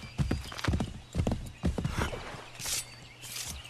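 Horse hooves clip-clop in Assassin's Creed 3, a run of steady hoof strikes up close, with a brief whinny and some faint rustling toward the end.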